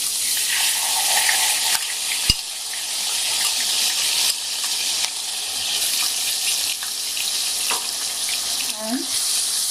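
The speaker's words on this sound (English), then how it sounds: "we will saute these onions till they get a beautiful golden brown color" Onions sauteing in hot oil with cumin seeds in a pan, giving a steady, loud broadband sizzle and frying hiss throughout, with a few sharp clicks and stirring scrapes, close up and with no talk.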